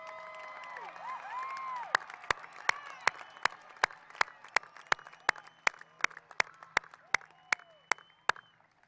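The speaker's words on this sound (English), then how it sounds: "one more huge round of applause for our graduates" Commencement crowd at a high school graduation cheers and shouts, then breaks into loud, evenly spaced unison claps repeating steadily about three times a second, with scattered voices carrying underneath.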